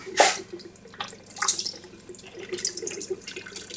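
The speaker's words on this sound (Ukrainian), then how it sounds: "Виливаємо наш оцет." Vinegar being poured into a pot for a hot pepper sauce in a home kitchen, a splashy liquid stream that starts with a loud gush and continues in uneven, gurgling bursts up close, with no talking.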